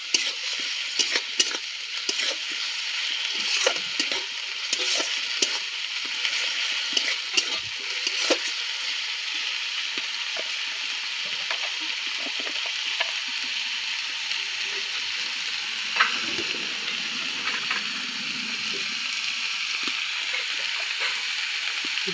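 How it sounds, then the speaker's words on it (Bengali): Spice masala cooking down in a pan after a splash of water, making a continuous close sizzle and bubbling with scattered stirring clicks and no talk. "এরপর ভালো করে কষিয়ে নেব মশলাটা।"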